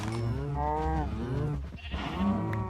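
Cattle mooing in the modded Minecraft pack GT New Horizons, several overlapping low, drawn-out moos filling the clip continuously at close range with no talk.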